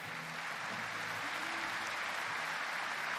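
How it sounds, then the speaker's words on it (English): Dutch crowd applauding at a European short track skating championship in an arena, a dense even wash of clapping held steady throughout, fairly distant and moderate. "A round of applause from the Dutch crowd"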